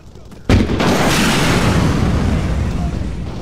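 Tank hit by a heavy explosion in ArmA 3, a sudden loud boom followed by a long rumbling roar and debris that slowly fade, heard close and alone.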